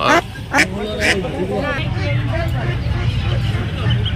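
Ducks and ducklings at a busy poultry market in Nepalgunj give a few sharp quacks near the start, then a crowd of voices and market chatter carries on steadily underneath.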